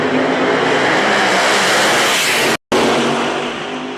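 PDRA Pro Mod drag cars, a Ford and a Chevy, blast down the strip at Virginia Motorsports Park with a loud, dense wall of engine roar that cuts out briefly before resuming and fading slightly.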